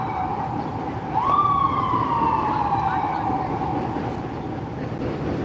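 A single police siren wails past, one rising then slowly falling tone over a steady rumble of traffic, fairly loud at its peak, then fading.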